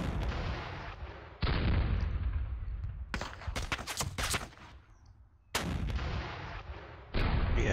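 Artillery fire in the wargame Panzer Battles North Africa 1941, a series of loud booming gun blasts with rapid cracking shots in the middle, separated by short decaying tails and quiet gaps.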